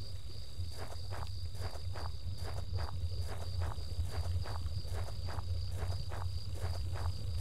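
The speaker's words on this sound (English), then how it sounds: "That's lovely little footstep sounds" Steady, evenly paced footsteps tread along a path in the video game Home, soft and moderately close over a constant hum of crickets or insects in the background.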